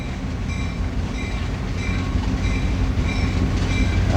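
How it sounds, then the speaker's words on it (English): A passenger train rumbles past at a steady, moderate distance in Duluth, Minnesota, with a low continuous roar and faint rhythmic clatter of wheels on the rails. "That looks like a passenger train."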